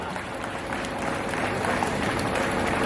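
Audience at a poetry gathering bursts into dense, continuous applause to welcome a poet, loud and sustained from start to finish.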